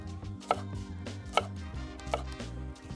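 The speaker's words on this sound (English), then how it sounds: "Another way to cut the bell peppers, flip it over to the other side" A chef knife julienning bell pepper on a cutting board gives three distinct, sharp chops spaced under a second apart, close and clear over a steady low hum.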